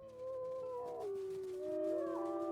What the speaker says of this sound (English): we missed the howl